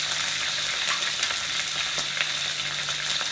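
Shallots and spices sizzle and fry in hot oil in a pan, a steady close crackling hiss with scattered sharp pops throughout.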